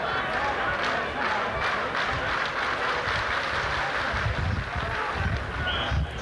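A Leeds rugby league crowd at a Warrington v Leeds match in 1990, gathered behind the posts, makes a dense, steady murmur and rumble of disapproval, with a commentator's voice faintly over it.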